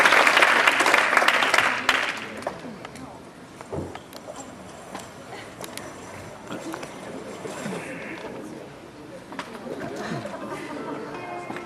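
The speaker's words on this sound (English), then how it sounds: "So let's give them a round of applause." A loud burst of applause greets a dance group about to perform a contemporary-style piece at a stage event, then fades within a couple of seconds into scattered claps and background crowd chatter.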